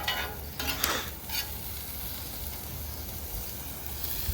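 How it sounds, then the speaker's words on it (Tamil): Onions sautéing in a pan, heard as a steady, faint sizzle with a burst of stirring scrapes early on, followed by a continuous low frying hiss. "வெங்காயம் வதங்கணும்."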